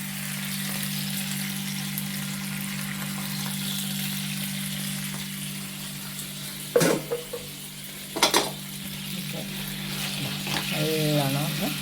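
Chicken satay in tomato sauce sizzles steadily in a pan, with a couple of sharp stirring scrapes midway and a short voice near the end.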